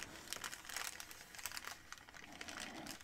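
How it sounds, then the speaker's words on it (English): Crinkly tissue paper from a stationery unboxing rustles and crackles close up in soft, continuous bursts, quiet and intimate with no talking over it. "I liked the sound that this crinkly tissue paper makes as well."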